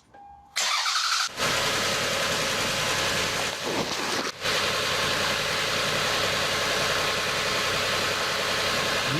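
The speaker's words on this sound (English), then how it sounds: "we're going to go ahead and start this thing up" A car engine cranks briefly, catches and settles into a steady, loud idle during a starting and charging system test, running continuously with no talk.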